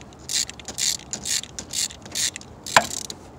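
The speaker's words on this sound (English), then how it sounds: "Get your ratchet, you extend it." A ratchet with an extension is turned while swapping spark plugs on a four-cylinder 2.2 Chevy Cobalt, giving a run of repeated clicking bursts in a steady rhythm, close and clear, ending with a sharp metallic knock.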